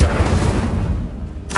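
Incendio fire spell cast in Hogwarts Legacy, a loud, dense burst of fiery roar that swells and rumbles for over a second before a brief crackling flare at the end.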